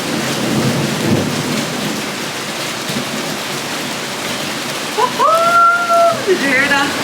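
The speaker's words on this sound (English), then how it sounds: "Absolutely torrential rain." Torrential rain pours steadily in Miami as thunder rumbles through, a dense wash of drops throughout, with a brief tonal whine rising near the end.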